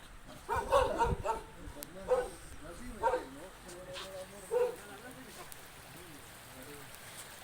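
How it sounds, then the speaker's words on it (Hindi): A guard dog kept at a trout fish farm in Gilgit-Baltistan barks and yips in several short bursts, moderately close, with people talking over the outdoor background. "इन्होंने एक कुत्ता भी पाला हुआ है हिफाजत के लिए और ये बकते भी हैं"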